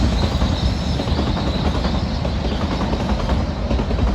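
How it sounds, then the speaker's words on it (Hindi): A toy train on the Kangra narrow-gauge line rumbles past close to a village house in Himachal, its steady, loud rolling noise filling the whole stretch without a break. "ये गई टॉय ट्रेन।"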